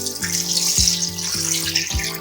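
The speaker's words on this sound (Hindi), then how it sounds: "अब हम इसमें पानी डालेंगे।" Water pours steadily into a pot with a continuous splashing rush, close and moderately loud, with no voices.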